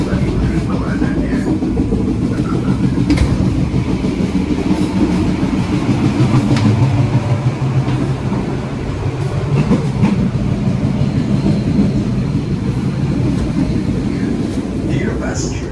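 Passenger train running toward Purwokerto Station, steady rumbling wheel noise with faint rhythmic clacks and creaks inside the carriage, while an onboard announcement voice speaks over it.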